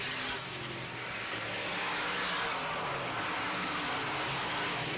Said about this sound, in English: A passel of cars head into turn number 1, all battling for position.